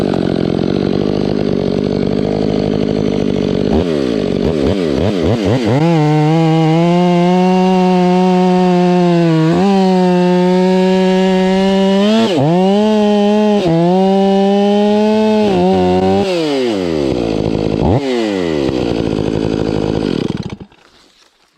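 Stihl chainsaw cutting jarrah firewood, its loud engine screaming steadily for about twenty seconds with pitch dips and rises as the chain bites into the wood and frees up, close and alone.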